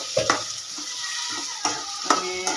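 Vegetable tempering of capsicum, onion, tomato and ginger-garlic-chili paste sizzles in a pan while a spoon stirs it, steady frying hiss broken by several sharp scraping clinks.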